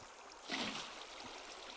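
Faint trickle of flowing water placed in a Minecraft build, a quiet hissing swell that rises briefly then settles into a soft steady wash.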